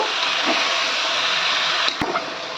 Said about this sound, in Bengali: এবার আমি দিয়ে দেব মেখে রাখা চিকেনটা। ভালো করে মিক্স করে দেব।